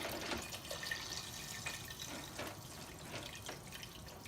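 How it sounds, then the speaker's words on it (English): Remineralized water poured from a container into a cooking pot on the stove, a steady soft splashing trickle that runs continuously for several seconds at low level. "I'm gonna add some water and then we'll bring it up to a boil."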